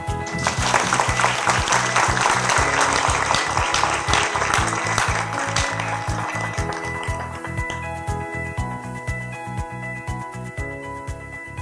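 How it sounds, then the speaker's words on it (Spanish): An audience applauds in a lecture hall to welcome a guest lecturer, a dense, steady round of clapping that carries on for the whole stretch and eases off slightly toward the end, with no voices on top. "Démosle la bienvenida con fuertes aplausos al maestro Raúl Zaffaroni"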